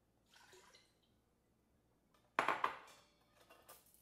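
Water is poured into a metal Instant Pot inner pot, a quiet kitchen scene with faint handling clinks followed by a short, splashy pour and a few drips.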